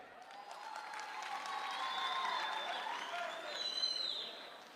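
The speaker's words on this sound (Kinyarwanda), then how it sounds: "abarokore barimo aha mukoma amashyi twumve" An audience at a Rwandan comedy show claps steadily for several seconds, a dense, even patter that swells toward the end, with faint whistles and cheers mixed in.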